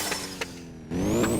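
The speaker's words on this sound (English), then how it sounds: "some low exhaust and blow-off valve sounds" Car engine in the drift racing game Hashiriya Drifter, a low exhaust drone with short hissing bursts and a rising rev after a brief dip, moderately loud and close with no talking.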